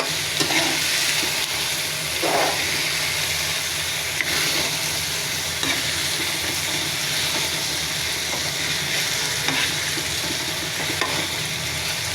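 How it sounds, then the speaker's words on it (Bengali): Radish frying with chicken and spices in a Bengali chicken curry, a steady sizzle running throughout with periodic scraping stir strokes every couple of seconds, fairly close and with no talking. "এভাবে একটু ভাজা করে নেবেন মাংসের সাথে, মশলার সাথে মূলাটা"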